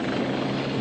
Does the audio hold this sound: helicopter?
yes